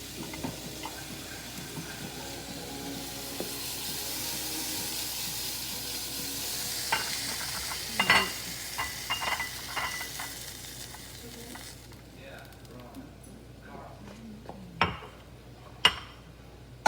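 Shrimp sizzle steadily in a hot pan, with a soft frying hiss, utensil stirring, and occasional clinks and taps of cookware against the pan.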